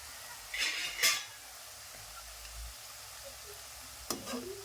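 Onion pakoda fries in oil with a soft background sizzle, broken by a few brief scrapes and clinks of stirring, close and fairly quiet, without speech.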